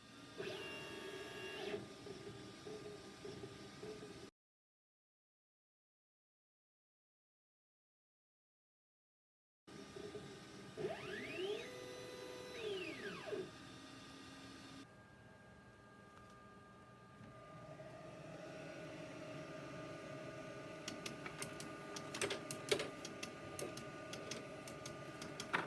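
A Glowforge laser engraver etches pencils with a steady mechanical whir and fan hum, joined by rising and falling motor tones as the head sweeps back and forth, broken by one stretch of silence; no one talks.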